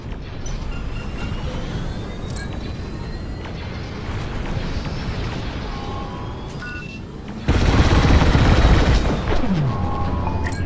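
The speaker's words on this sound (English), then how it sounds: "When you get to the core, start dropping bombs and do not stop." Bombs dropping onto a reactor core in the Star Wars Squadrons space-combat game, a steady rumbling battle din that breaks into a loud, sustained explosion burst partway through.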